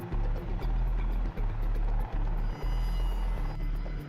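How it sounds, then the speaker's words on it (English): A VH-3 presidential helicopter flies overhead with a loud, steady rotor thump and a deep, continuous engine drone. The rhythmic blade beats repeat evenly throughout. "When the VH-3 flies an executive lift"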